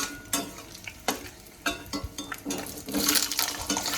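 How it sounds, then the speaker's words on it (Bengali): Medium-sized diced potato cubes dropped into hot oil over tempered spices, frying with bursts of loud sizzling and stirring scrapes, rising to a dense crackle near the end. "আলুটা দিয়ে আমি 2 থেকে 3 মিনিট একটু লাল লাল করে ভেজে নেব"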